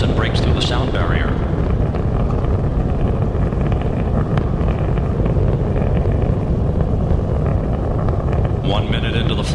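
Space Shuttle main engines roar during the STS-104 launch ascent, a dense continuous rumble with broadband crackle, heard steadily throughout with a voice faintly over it.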